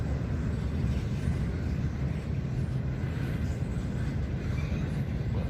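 A train hauling wind turbine blades rolls along a railroad track near Alexandria, Missouri, giving a steady, continuous low rumble that holds at an even level for the whole stretch.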